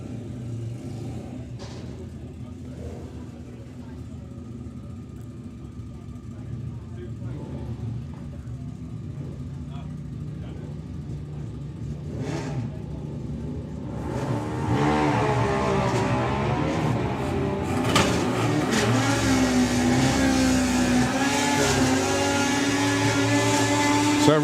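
Drag racing run with Robbie Dobby's Super Penguin and Peter Harrison's Ducati at the Springspeed Nationals, a distant engine rumble that swells into loud, sustained high-revving bike engines in the second half.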